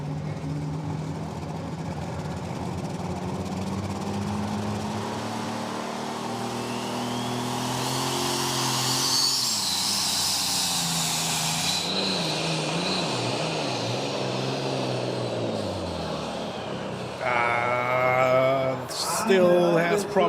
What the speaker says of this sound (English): The engine doesn't sound very good